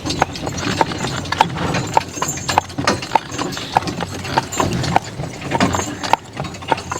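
Horse named Baron pulling a buggy, hooves clip-clopping in a steady rhythmic trot close by, with wheel and road rumble underneath and no talking.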